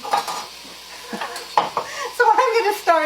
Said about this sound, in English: Once that starts to render, the bacon will loosen